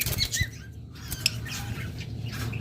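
Split blue lovebirds flutter with soft, rapid wingbeats and a few faint squawks and chirps, nearby among a low background hum.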